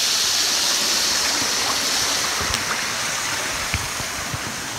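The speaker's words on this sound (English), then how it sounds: "There's a waterfall." A waterfall at a Riviera Maya swimming spot gives a steady, broadband rush of falling water throughout, with a few faint splashes and knocks on top and no talking.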